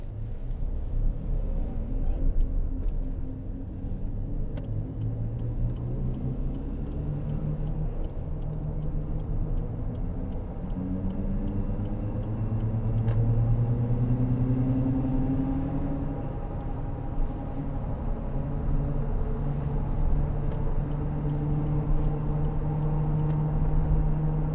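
A 2008 Land Rover Discovery 3 with the 2.7 TDV6 diesel cruising on the road at speed, a steady low engine drone and road rumble with slowly rising and shifting tones, no talk.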